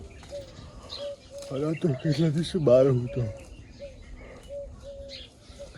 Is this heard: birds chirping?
yes